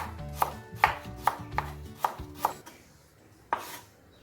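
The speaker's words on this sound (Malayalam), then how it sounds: "പെട്ടെന്ന് വഴണ്ടി കിട്ടാൻ വേണ്ടിയിട്ട് ഞാൻ ഇതുപോലെ ചെറിയ സ്ലൈസാക്കിയാണ് കട്ട് ചെയ്തെടുക്കുന്നത്" A knife slices vegetables into small pieces on a cutting board for a vegetable biryani. About six crisp, evenly spaced strikes come close up, then a short pause and one final cut, with no talking.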